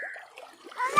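Water splashed by hand onto a small child at a shallow village stream near a waterfall, a few short, light splashes close by, mixed with a voice.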